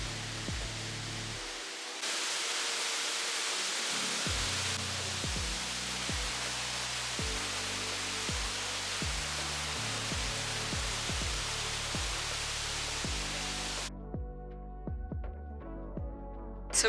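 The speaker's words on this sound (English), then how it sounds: "waterfall in the background" Tall waterfall in the Tbilisi botanical garden, a loud, steady broadband roar of falling water throughout, with faint clicking and tonal traces underneath and a brief drop in the roar near the end.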